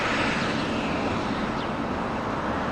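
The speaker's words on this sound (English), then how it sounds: "Good sound on the Exact Jet." Continuous roaring whine of a Bombardier business jet's engines at Los Angeles International Airport, a loud, steady broadband rush heard alone without voices.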